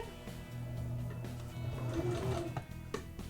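A sewing machine stitching nylon webbing onto decorative fabric for a dog collar, a steady close mechanical whirring hum with rapid needle clatter and a few clicks as it slows near the end.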